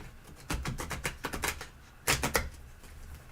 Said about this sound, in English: I'm having problems shuffling this morning